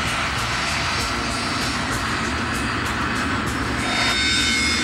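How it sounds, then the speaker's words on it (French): Engines of a KLM Boeing 747 roar steadily as power is pushed up for takeoff on the runway at Tenerife, a loud, dense, continuous rumble that swells slightly toward the end. "le capitaine Van Zanten met les gaz"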